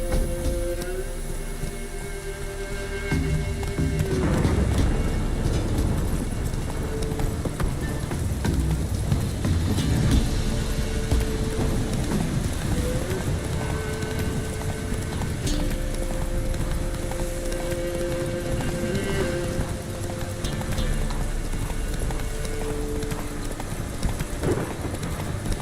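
Roach, Geralt's horse in The Witcher 3, gallops steadily with a continuous rhythmic drumming of hooves, loud and close, over a dense bed of game music.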